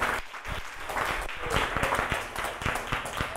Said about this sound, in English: I dare you to just to clap your hands for Jesus all over the building.